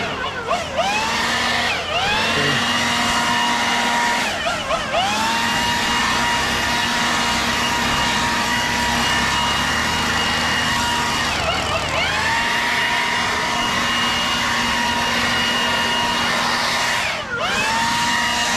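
Leaf blower clearing debris off a property before edging, a loud steady whine close by, with brief dips in pitch as the throttle changes.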